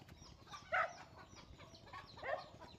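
Chickens and a chick cluck softly outdoors in a rural farmyard, giving a few short faint calls that are spread across a quiet background.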